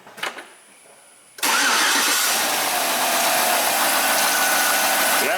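A Chevy truck with a rich-running fuel pressure fault is restarted: a quiet lead-in, then at about 1.4 s the engine catches and settles into a loud, steady idle that carries on to the end.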